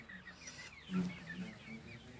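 Soft chicken clucking, a few short low clucks close by but quiet, with faint background ambience.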